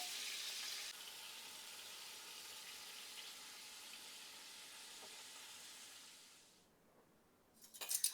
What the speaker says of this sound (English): I'm frying them in batches because they're pretty big